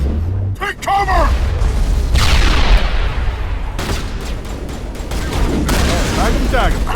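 A grenade explodes amid combat in the Mass Effect video game, with booming blasts and rattling gunfire near and loud, while shouted voices overlap the action.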